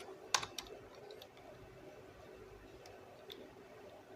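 Typing on a computer keyboard while entering text into Microsoft Excel, with a few sharp louder keystrokes early on followed by a steady stream of soft, close clicks.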